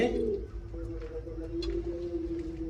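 Steady, throaty pigeon cooing rolls on continuously at moderate distance, low and bubbling, with a faint voice murmuring now and then.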